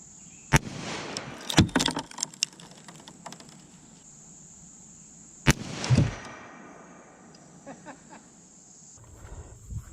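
.40 S&W pistol shots fired outdoors at a concrete block: two sharp loud cracks several seconds apart, each followed by scattered clatter and rustling, with crickets or insects buzzing faintly behind.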